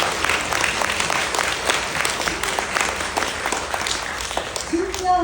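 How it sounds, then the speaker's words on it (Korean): Audience applause at a talk concert: a steady, dense wash of clapping from a seated crowd fills the room for several seconds, with talk faintly underneath near the end. "박수 한번 보내주세요."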